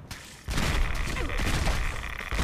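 Pistol gunfire from an OTs-33 Pernach in the video game Fallout 4, a dense burst of rapid shots that starts abruptly and continues loud and sustained through the moment.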